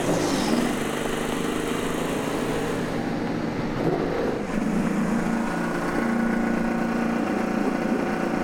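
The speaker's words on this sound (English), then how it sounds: "Good to hear the engines fired." IndyCar race car engines fire up and idle at the start of the Honda Indy Grand Prix of Alabama, a dense, continuous low rumble of several engines with crowd and roadway ambience, no speech.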